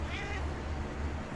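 A cat meows briefly and faintly on a farm where chickens and turkeys are being picked out, the short call sitting over a steady low background hum.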